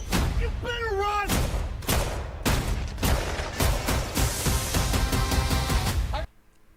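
Dense bursts of movie-trailer gunfire, loud and close, mixed with booms, shouting and a dramatic score, ending in a sudden cut to near silence.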